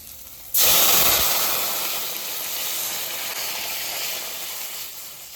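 Water poured onto fried, well-cooked spice paste with Kashmiri chilli powder bursts into a loud sizzling hiss that flares suddenly, then settles into a steady bubbling fry for several seconds, with no talk over it.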